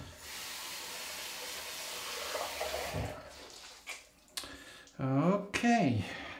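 Hot water running from a bathroom tap, a steady hiss for about three seconds before it stops, followed by someone speaking nearby.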